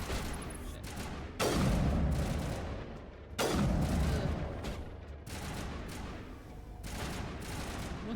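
Gunfire in a video game: heavy, booming volleys erupt in repeated bursts, loud and close, with rumbling decays between them and faint voices underneath.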